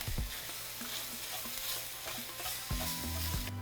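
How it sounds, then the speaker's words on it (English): Ground meat seasoned with oregano, minced garlic and salt browns in a pan for stuffed lasagna shells, a steady close sizzle broken by repeated scraping and chopping strokes as the meat is broken up, no voices. "We're just going to break down our meat"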